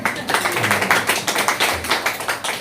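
Audience applause in a hall at a public talk, a dense continuous patter of many hands clapping at steady volume, fairly close and without any speech over it.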